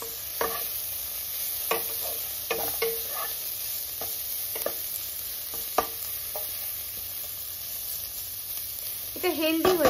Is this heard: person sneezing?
no